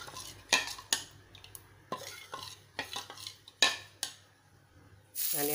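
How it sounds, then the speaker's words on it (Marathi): Rice batter for ghavne, a Konkani neer dosa, being stirred in a pot, heard as a series of sharp utensil scrapes and clinks against the metal with quiet pauses between them, close and fairly soft. "हे पीठ परत हलवून घ्यायचं असं."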